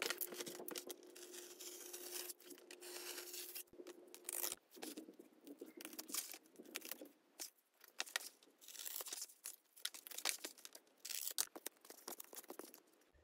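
Scissors snip through a cardboard fan blade in short, crunchy, tearing cuts that come in uneven bursts, faint and close, with brief pauses between strokes.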